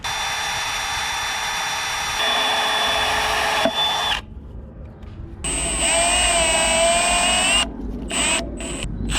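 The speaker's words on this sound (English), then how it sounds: "Then we're just going to screw in some simple little wood screws" A power drill drives small wood screws into a vehicle's lip seal at close range, a loud continuous whine that shifts pitch as the motor loads, pauses briefly, then restarts with short stops and restarts near the end.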